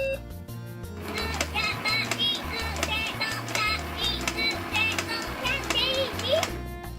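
Buttons are pressed on an Ojamajo Doremi toy device, setting off a dense run of bright electronic tones and clicks that continue steadily over a low droning background.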